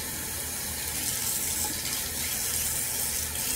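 Running water pours steadily over soapy hair as it is rinsed, a constant close hiss and splash like a tap flowing without pause.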